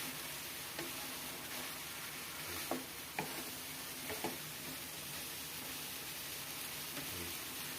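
Chopped pakbet vegetables sizzle steadily in a pan, with a few soft scrapes and clinks from stirring over a constant frying hiss.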